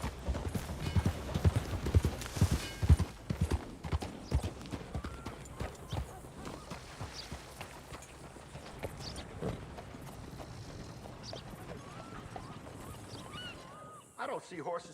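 Horse hooves clip-clop in Red Dead Redemption 2, a steady run of loud, close strikes in the first few seconds that then thins out under game ambience and a brief voice.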